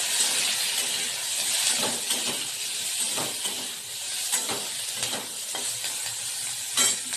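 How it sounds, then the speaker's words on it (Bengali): Onion, garlic and spices fry in a kadai for paneer, a steady close sizzle and hiss with occasional stirring scrapes of a spoon against the pan. "এটা হালকা মশলাটা ভাজবো।"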